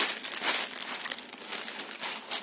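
Thin plastic bag crumpled and crinkled by hand close up, a continuous dense crackle with bursts of louder rustling and no voices.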